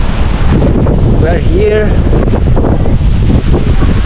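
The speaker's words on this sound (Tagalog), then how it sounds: "malakas ang hangin, napakalamig" Strong wind gusting on the Faroe Islands, buffeting the microphone with a loud, continuous roar throughout, while a person speaks briefly over it.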